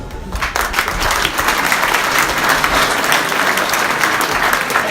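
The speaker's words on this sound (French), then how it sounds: "On peut l'applaudir." Dense, steady applause from an outdoor village festival crowd after a speech, many hands clapping at once, loud and continuous from start to finish.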